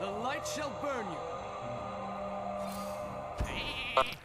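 Cartoon sheep bleating in the Hearthstone card game, a few wavering bleats early on over ongoing game music and effects, with a couple of sharp game impacts near the end.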